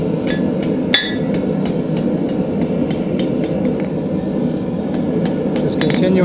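Repeated sharp ringing hammer blows on small steel stock being scrolled over the edge of an anvil, close and loud in an irregular rhythm, with a faint voice in the background.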